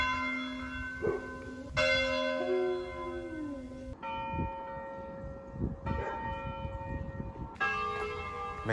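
Church bells ring from a clock tower in Mondovì, with several loud, resonant strikes whose long humming tones overlap and fade, heard outdoors with no talking.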